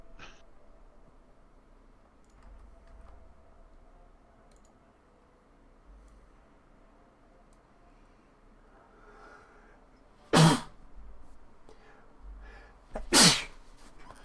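Two sharp, loud sneezes burst out close by a few seconds apart after a long quiet stretch with faint room noise.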